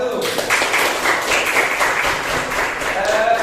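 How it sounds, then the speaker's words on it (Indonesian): A seventh-grade Islamic studies class applauds a student group after its presentation, with steady, close, moderately loud clapping under continuous voices. "Tepuk tangan dulu untuk kelompok 1."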